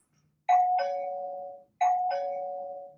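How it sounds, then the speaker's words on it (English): A video doorbell paired with an Aqara Panel Hub S1 Plus chimes twice in a clean two-tone ding-dong, each note ringing out and fading before the pattern repeats once, close and clear with no talking. "I'll demo the video doorbell now"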